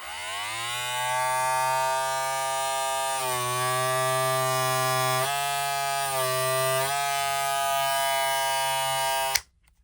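Wahl Vapor cordless hair clippers running alone at close range, a loud steady motor hum with a rich harmonic buzz that shifts slightly in pitch a few times before cutting off abruptly near the end.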